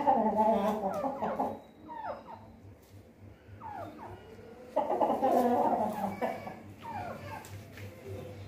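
A chicken clucks in short, scattered calls close by, with quiet pauses between bursts and a dog-like whimper mixed in.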